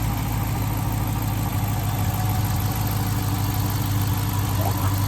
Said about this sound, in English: Alright, so you want me to rev it?